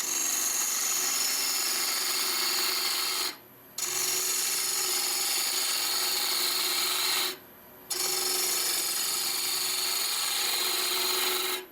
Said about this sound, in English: Nice big cuts actually for such a small gouge. With a lot of control.